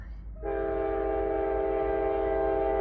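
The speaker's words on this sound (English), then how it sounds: "I can see the last train." A train at a Muncie rail-watching spot sounds a long, steady, loud multi-tone horn that starts about half a second in and holds to the end over a low rumble of the passing consist.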